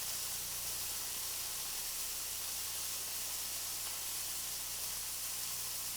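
Chicken cutlets sauteing in a hot pan, a continuous broad sizzling hiss that stays fairly even and close, with no talking.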